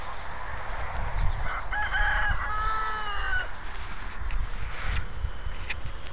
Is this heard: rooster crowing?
yes